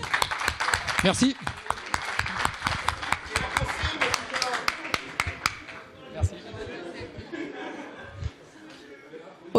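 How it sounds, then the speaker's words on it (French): A school audience applauding after student pitches at an innovation event, a dense burst of clapping mixed with laughter and chuckles that thins out after a few seconds, with brief speech heard over it. "pour eux j'aimerais bien que vous applaudissiez"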